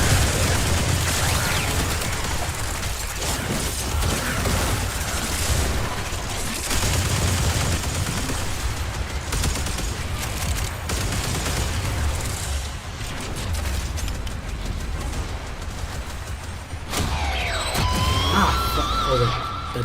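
Gunfire in the shooter game Warframe, a continuous dense barrage of loud, overlapping shots and impacts that runs for about twenty seconds, with crashes and electronic effects layered in near the end and no clear voice.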